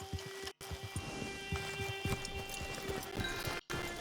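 Steady clip-clopping of horse hooves in a trotting rhythm in the video game Red Dead Online, close by, over a constant low hum and faint background tones.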